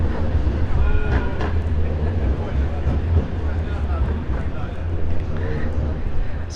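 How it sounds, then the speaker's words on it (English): A tram rolls past on busy Princes Street in Edinburgh, its low rumble and rattle running steadily under street noise and voices talking nearby. "Somebody crossing in front of a tram."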